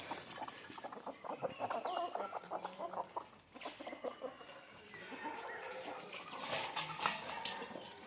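Several free-range country chickens cluck and murmur continuously nearby, a busy overlapping chatter of hens with occasional louder calls, heard in the morning as the coop is opened.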